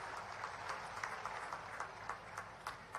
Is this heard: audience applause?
yes